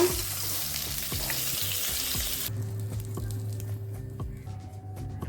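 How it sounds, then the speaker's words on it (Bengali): Rohu fish pieces frying in hot oil in a Bengali kitchen, a close, steady sizzle and crackle with soft stirring and utensil taps. "মাছ ভাজাগুলো হয়ে গেছে উঠিয়ে নেব"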